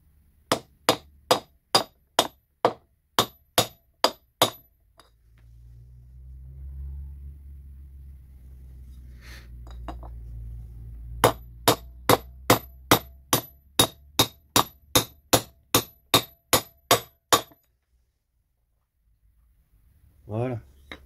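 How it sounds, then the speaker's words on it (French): A hammer taps a bearing into a PSA 1.4 HDi gearbox from a Citroën C3 in sharp, evenly spaced metallic strikes, two long bursts around a low rumbling pause, close and loud, with someone talking in between. "Donc je vais essayer, si au marteau ça veut bien rentrer."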